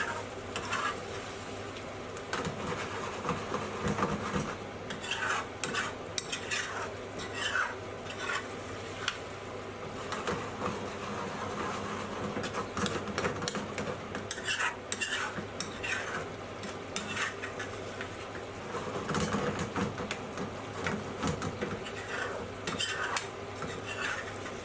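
A chicken madras curry is stirred with chopped leaf and a squirt of lemon dressing, giving steady scraping and clinking of a utensil against the pan over a low sizzle, with no voices.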